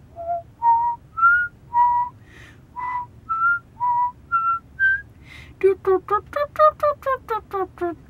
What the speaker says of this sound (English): So what was that I whistled?